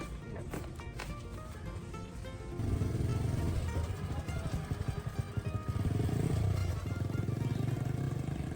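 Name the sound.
motorbike rolling down the road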